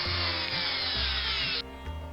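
A small power driver whirs steadily while driving an M2 screw into a drilled, tapped post on a Matchbox #26 Big Banger toy car, then stops abruptly, leaving a low hum.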